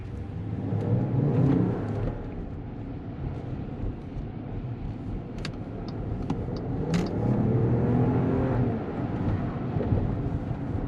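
A 2023 Jeep Wagoneer accelerates repeatedly in windy weather, its engine a steady low rumble under constant wind noise that swells and eases across the stretch.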